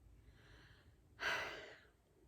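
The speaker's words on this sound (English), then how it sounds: "So this is square breathing, okay?" A single slow breath during a square breathing exercise, with a soft, airy inhale followed by a stronger, breathy exhale that trails off. It is close and quiet with no talking.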